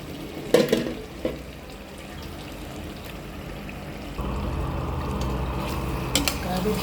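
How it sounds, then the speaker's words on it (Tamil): Washed chicken pieces go into a pan of cooking masala and are stirred, with a couple of clattering thuds at the start followed by a steady sizzle that grows louder and persists, with occasional utensil knocks. "இப்போ கழுவி வச்சுருக்க சிக்கன் பீஸை போட்டுக்கலாம்."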